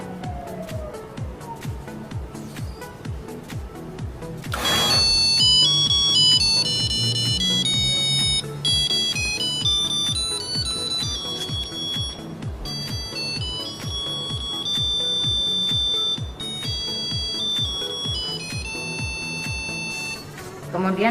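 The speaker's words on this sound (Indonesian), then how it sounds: "Kemudian tunggu sampai alat berbunyi alarm yang menandakan sudah selesai." A laboratory centrifuge sounds its finish alarm in a lab, a repeating electronic beep pattern with bright melodic tones that runs steadily throughout, joined by a louder burst of beeping partway through.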